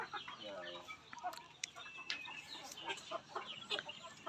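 Free-range village chickens in a small backyard pen cluck and chatter during feeding, with several birds calling at once in short, irregular bursts over a busy farmyard background.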